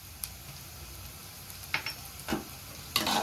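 Onions sizzle quietly in oil underneath as a spoon scrapes and stirs the pan a few times, with the last stir louder and longer.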